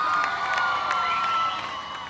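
A concert crowd cheering and shouting together, a dense continuous roar with scattered whoops and whistles, loud and steady before easing slightly toward the end.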